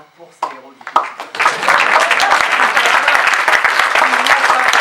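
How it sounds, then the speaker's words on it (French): An audience bursts into sustained applause, dense continuous clapping filling the room after a few scattered first claps, loud and close. "Alors, un petit applaudissement pour ces héros du quotidien."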